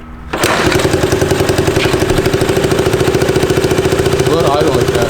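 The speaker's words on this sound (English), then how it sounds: "Let it idle like that." A barn find motorcycle engine catches and settles into a steady, slightly uneven idle, a close, loud putter with a regular pulsing beat that continues without pause.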